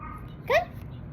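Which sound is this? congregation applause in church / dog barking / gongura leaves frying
dog barking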